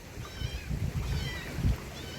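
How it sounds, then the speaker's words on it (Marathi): Small abandoned kittens meow faintly by the water, a few thin high cries over a low rumble of handling and movement noise nearby. "बघा मित्र इथं कोणतरी लहान मांजराची पिल्लं सोडल्यात."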